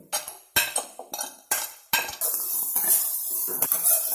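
Chopped onions stirred in a pan for dhaba-style dal tadka: a run of sharp metal clinks and scrapes from the spoon, then a steady sizzle with a few more knocks, close and without talk.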